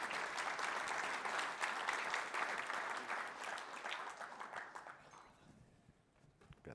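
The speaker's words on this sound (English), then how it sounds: "Everyone give Darren a round of applause." A conference audience at a live CEO event in Sydney gives a round of applause, dense clapping that holds steady and then fades out into near silence at the end.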